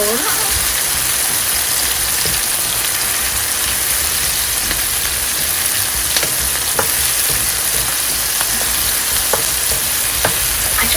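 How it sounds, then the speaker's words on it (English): Fish for Jamaican brown stew frying in a pan, a loud, steady crackling sizzle with scattered pops and occasional utensil scrapes throughout. "I love fish. I love cooking fish."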